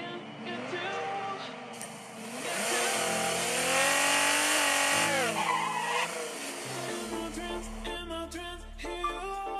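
Game vehicle engine in Call of Duty Mobile revving up and shifting pitch over several seconds with tire squeal and skidding, loud and close, followed by lighter clattering game effects.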